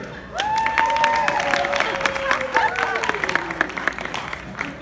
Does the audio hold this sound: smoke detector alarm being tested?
no